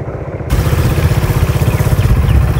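A motorcycle engine idles loud and close in deep flood water after heavy rain, a steady chugging pulse running throughout with no talk over it.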